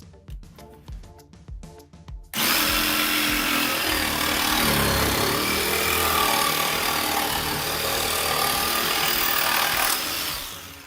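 A Ryobi 18V One+ P5231 orbital jigsaw on orbital setting 1 cuts through OSB with a loud, steady buzzing rasp that runs without a break for about eight seconds and then stops, following a few quieter knocks.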